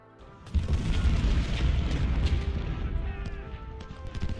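Cannon fire rumbles across a Civil War battlefield in Ultimate General Civil War, a sustained roll of deep booms with scattered gunfire crackling over it, loud and continuous.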